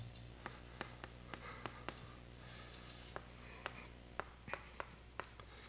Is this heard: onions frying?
no